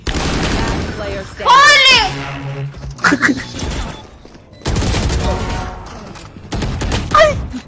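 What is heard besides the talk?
gunfire in a video game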